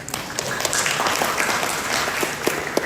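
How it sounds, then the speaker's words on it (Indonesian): An audience at a Christmas church celebration applauding, a dense, even, continuous clapping that fills the room for the whole stretch. "boleh aplaus."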